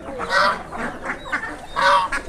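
Ducks at a poultry farm honk and quack in two loud, close bursts with quieter calls between them, with no voices.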